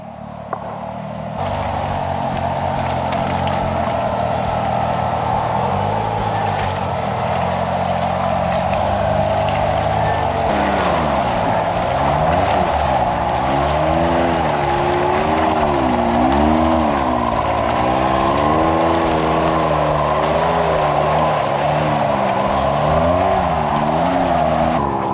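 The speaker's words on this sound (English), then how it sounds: "Just wanted to get a video of Maddie driving through this mud" A vehicle driving through deep, sloppy mud, its engine running loud and steady close by as the revs rise and fall in repeated waves while the wheels churn, with no talking over it.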